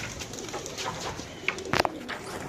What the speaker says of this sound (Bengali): এইখানে আরও কবুতর আছে যেগুলো বসে রয়েছে